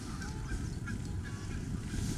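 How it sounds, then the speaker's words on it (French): Geese honking and ducks calling together in a steady, busy chorus, heard while cycling a commute route near Bezons, with low rumbling background noise underneath. "t'entends les canards et les oies qui chantent."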